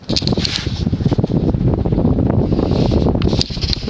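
A Hunter Right-At-Home 52-inch ceiling fan from about 1997, with narrow blades, runs at roughly 185 RPM, a loud, close, steady whooshing rush of moving air with a faint rhythmic flutter.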